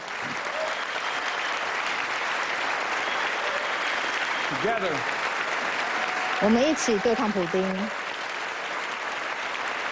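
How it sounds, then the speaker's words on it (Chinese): A packed audience stands and applauds at Biden's State of the Union address: sustained, dense clapping throughout, with a voice talking over it. "所以现场可以看到，大家都起立鼓掌。"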